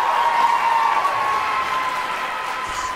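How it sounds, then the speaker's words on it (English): Audience at a high school orchestra spring concert cheering and applauding, a dense, fairly loud wash of clapping and crowd noise holding steady throughout. "just one more cheer for Yuna"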